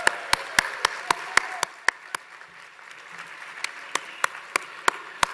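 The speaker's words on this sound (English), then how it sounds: "Let's give another round of applause" Scattered hand claps ring out in a steady rhythm, a thin round of applause from a small crowd with faint murmuring beneath.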